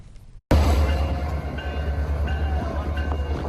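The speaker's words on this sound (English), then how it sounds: "This was the scene as the holiday train rolled into Rudder Station in French River." CPKC holiday train arriving at Rudder Station in French River on a Sunday night, a loud steady rumble of rolling railcars with faint sustained horn or whistle tones above it, beginning abruptly and continuing throughout.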